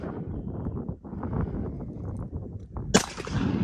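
A shotgun fires once at a turkey pattern target, a sharp loud blast near the end that rings out briefly, following a stretch of steady rustling and low background noise outdoors.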